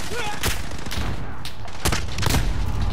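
Sniper rifle shots in a shooter video game, with several sharp cracks against a continuous loud noisy game background and brief voice chatter.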